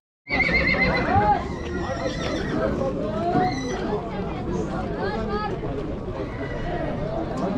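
A horse, a young male colt offered for sale at the Merki livestock market, neighs and whinnies loudly and up close, its calls repeating over a steady babble of crowd chatter and talk.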